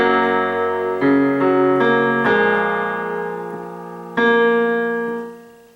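A piano plays the third and fourth measures of a song from Over The Garden Wall: a handful of sustained chords struck one after another, ringing and fading, alone and fairly loud.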